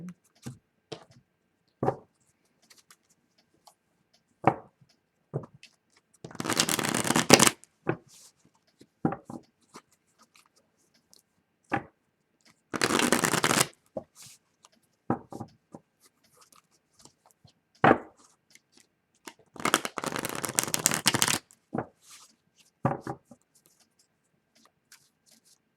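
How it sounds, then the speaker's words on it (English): A deck of oracle cards is shuffled up close in three separate rustling bursts, with scattered soft taps and quiet gaps between them and no talking. "And one more shuffle."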